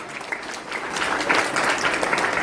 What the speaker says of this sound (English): So give a big applause to Angita.